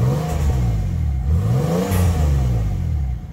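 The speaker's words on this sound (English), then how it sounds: "Give me a rev." A turbocharged right-hand-drive car engine revs hard in a few rising and falling sweeps, loud and close, with no talking.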